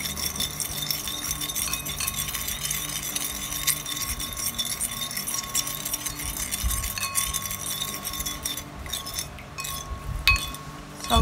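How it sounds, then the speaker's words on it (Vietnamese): A metal spoon stirring sugar into water in a bowl, clinking repeatedly against the sides in a steady, close, continuous rhythm while making fish-sauce dipping sauce for bún chả. "Và tôi sẽ dùng thìa và tôi khuấy tan cái phần đường này ra trước á."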